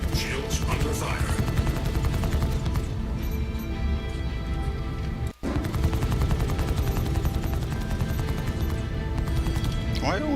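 Sustained gunfire striking a ship's shields in Star Citizen, a dense continuous rattle of impacts that cuts out for a moment and then resumes at the same steady intensity.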